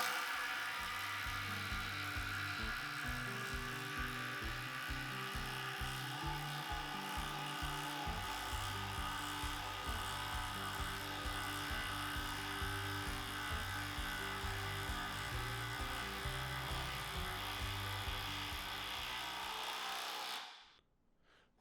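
A Makita cordless drill runs under load in a timed speed test, grinding steadily through wood for about twenty seconds with a rough, pulsing rasp before it abruptly stops.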